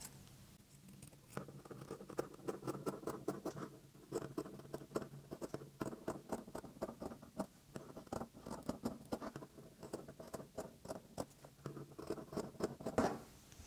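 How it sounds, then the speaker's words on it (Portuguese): Scissors snip through fabric for a heart-shaped cushion in quick, steady, closely spaced cuts, soft and near, continuing for several seconds with no talking. "Eu medi e aqui eu comecei a cortar, olha."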